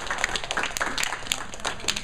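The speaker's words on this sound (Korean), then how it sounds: "우리 박수 한 번씩 주지 않으면 좋을 것" A small group at a midweek church meeting gives a round of applause, rapid scattered hand claps close by, steady and fairly loud for a couple of seconds.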